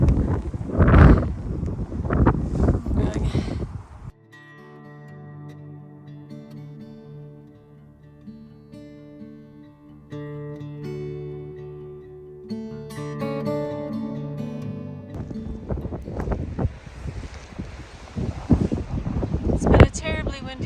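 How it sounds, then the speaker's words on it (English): Strong wind on a hiking trail north of Tehachapi on the Pacific Crest Trail roars and gusts loudly at the start and end, while a stretch of music plays through the middle. "It's been a terribly windy day."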